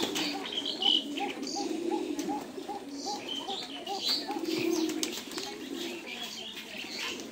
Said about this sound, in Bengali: মাশাআল্লাহ অনেক সুন্দর একটা কবুতর।